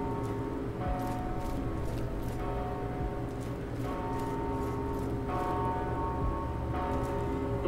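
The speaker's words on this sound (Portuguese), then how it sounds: "Toquei um sino aqui." A bell rings in the dark fantasy game Mortal Shell, a resonant tone with lingering overtones that recurs several times and is struck again at irregular intervals over a low ambient hum.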